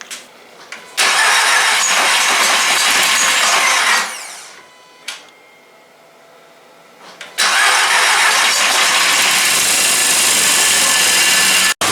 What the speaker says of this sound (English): It should have been long enough to get enough of a charge to at least spin it over enough to start it.